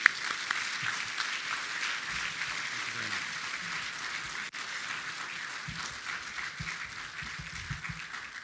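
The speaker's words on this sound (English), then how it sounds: "Please give him and Quantum Copper a round of applause." An audience at an innovation summit applauds an award winner from Quantum Copper, a moderate, fairly distant round of clapping that carries steadily through and thins slightly toward the end, with faint murmuring underneath.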